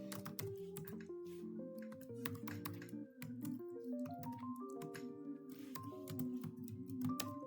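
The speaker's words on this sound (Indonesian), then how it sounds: "Jadi makanya kita ketikkan dulu nih ya nama nih." A name is typed on a computer keyboard for a C++ cashier program, with light, scattered key clicks under steady tonal background music, fairly quiet.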